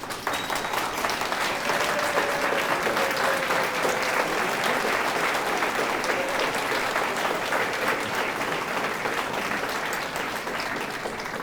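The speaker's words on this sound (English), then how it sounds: "I want to ask you please to stand and give a clap to these men and women who have organized this event" Sustained audience applause for the organizers of an African Night event at the University of New Brunswick, a steady, dense wash of clapping from a large crowd that holds evenly throughout.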